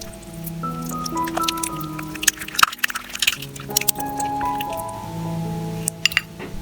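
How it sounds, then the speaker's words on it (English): Vaseline and olive oil are mixed into a creamy paste, with soft squishing, stirring and occasional clinks of a utensil against the container, close and fairly clear. "Mix both ingredients thoroughly until you obtain a smooth and creamy texture."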